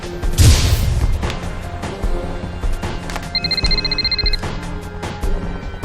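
A telephone rings with a repeated electronic trilling tone, loud and close, over background clatter and a brief crash at the start.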